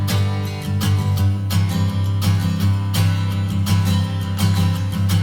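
Eastman E6 natural-top acoustic guitar strummed with an Eastman E1 SS slope shoulder blended in, full ringing chords struck in an even rhythm, close and loud with no voices.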